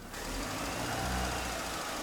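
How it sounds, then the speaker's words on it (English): A car engine at normal operating temperature runs steadily at idle, a continuous mid-low hum heard close by without speech. "With the engine running at normal operating temperature,"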